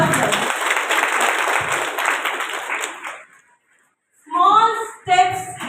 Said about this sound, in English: So please give a big round of applause to all of them.